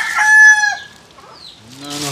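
A rooster crows loudly and close by in one drawn-out call, followed after a short pause by a few low clucks, with no talking.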